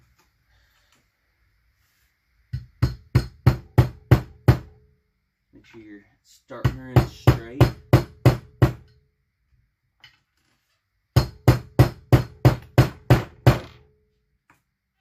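Three bursts of sharp metallic hammer blows driving a part into place during a McCulloch Model 73 rebuild, about six to eight quick strikes each, close and loud, with a brief spoken remark between.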